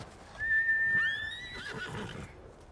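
A horse whinnies once in the video game Ghost of Tsushima, a high, shaky neigh that rises and falls over about a second, with faint hoof movement around it.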